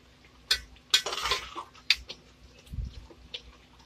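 Chicken and spinach (palak) being stir-fried in a pan, heard as sparse metal clinks and scraping of a utensil against cookware with soft sizzling stirs in between, close up and irregular.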